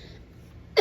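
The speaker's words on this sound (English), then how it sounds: "still got dry cough." A single short, sharp cough bursts out near the end after a quiet moment, close and fairly loud, with no talking.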